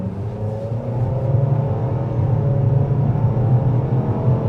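A 2025 Nissan Kicks SR accelerates at half throttle, heard from inside as a steady engine hum that slowly climbs in pitch over road rumble, with no talking.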